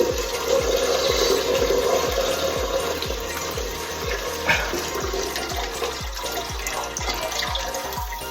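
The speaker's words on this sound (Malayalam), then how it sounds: "നമുക്ക് പാൽ ഒഴിക്കാം." Milk being poured into a pot for payasam makes a continuous, close, gurgling splash that stays even for several seconds, with no talking.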